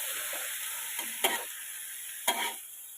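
Chicken stir-fried with fresh garden bamboo shoots, a steady close sizzle broken by two sharp clanks of a spatula stirring the pan, with no talk.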